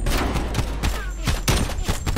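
Rapid gunfire in a competitive shooter game, several sharp bursts of shots in quick succession at close range, loud and dense across the short span.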